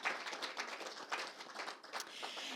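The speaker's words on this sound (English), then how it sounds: "So I think that deserves a round of applause" Scattered clapping from a small academic audience at a university event in Canada, thin and fairly faint, continuing steadily for a couple of seconds without speech.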